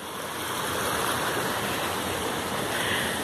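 Water pours steadily at the Jaceruba waterfall near Nova Iguaçu, a continuous broad rushing flow, close and even throughout.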